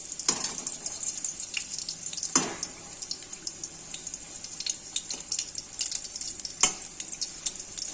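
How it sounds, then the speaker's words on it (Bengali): Potatoes frying in a pan while cooking mutton curry, with a steady close sizzle and several sharp clatters or stirring scrapes scattered throughout. "আলু ভাজা প্রায় হয়ে গেছে আমার।"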